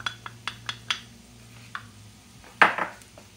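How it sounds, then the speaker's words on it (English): A spoon stirs flour into a mixture in a pan taken off the heat, making a run of light metallic taps and scrapes, then a louder clatter near the end, with no talking. "and take it off the heat and just stir it in"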